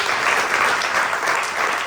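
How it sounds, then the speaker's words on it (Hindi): Dense, steady applause from a theatre audience at a Hindi comedy play, many hands clapping together at an even level for a short stretch. "दया प्रकाश सिन्हा साहब, इस नाटक के लेखक, उनके लिए भी तालियां हो सकती है।"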